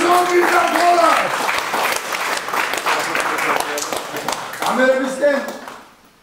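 An audience at a fight club face-off event breaks into applause for the fighters, a dense wash of clapping that carries under and around a loud announcer's voice before fading out at the end.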